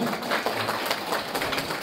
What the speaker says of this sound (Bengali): জোরে করতালি ধ্বনি হোক।